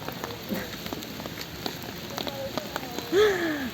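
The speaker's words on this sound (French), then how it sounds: "Oui, il pleut." Steady rain patters on a surface with scattered drips around Paris, while faint voices come and go in the background.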